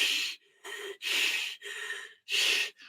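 A voice imitates heavy monster panting: five rasping, breathy gasps in a steady rhythm, close and fairly quiet, with brief pauses between.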